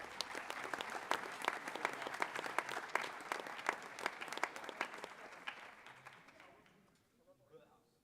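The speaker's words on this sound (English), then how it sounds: "So, again, another round of applause for Dante." An audience claps at a high school athletic awards ceremony, sharp distinct hand claps in a steady patter that thin out and fade near the end, leaving faint murmuring voices.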